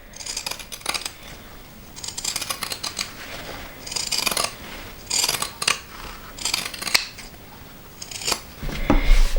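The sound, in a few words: pinking shears cutting off excess fabric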